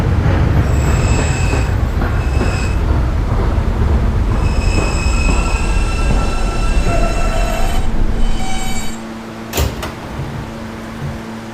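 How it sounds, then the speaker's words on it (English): A New York subway E train running on rails, loud and close, with a constant roar, screeching wheel squeal and rattling, then quieting and slowing near the end with a sharp clank. "This is a Cadland-bound E-train."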